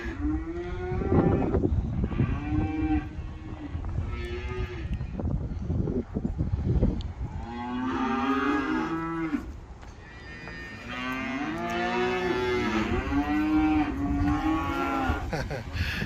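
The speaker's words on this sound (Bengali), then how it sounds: "গরুগুলো ডাকতেছে কি সুন্দর" Several cows moo repeatedly in long, drawn-out calls, close by and loud, with outdoor background noise between the calls, on a farm in Belgium.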